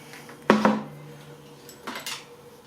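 A turntable and a 3D print set inside a cheap curing station, two clustered hard knocks and clatters close by, then a softer pair of light clunks a moment later.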